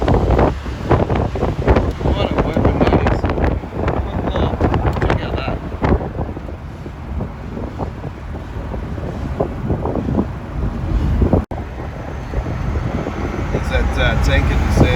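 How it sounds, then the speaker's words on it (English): A gas tanker truck roars past on the Cumberland Highway in Sydney, a loud rushing engine and tyre drone that swells and then fades, heavily buffeted by wind noise on the microphone, with a voice talking in places. "Got the gas tanker in front there."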